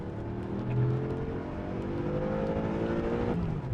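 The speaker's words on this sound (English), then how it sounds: "Rev limiter." A 2012 BMW M5 with a 4.4-litre V8 and M DCT gearbox revs hard from inside the cabin, its steady engine note climbing toward the rev limiter before dropping off sharply near the end. No one talks over it.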